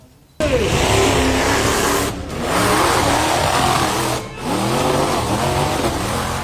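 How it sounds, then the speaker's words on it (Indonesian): A monster truck engine roars continuously during a stunt show, loud and close, with revs rising and dipping and two short breaks in the sound. "sebuah truk monster yang sedang beratraksi tiba-tiba hilang kendali dan menabrak kerumunan penonton"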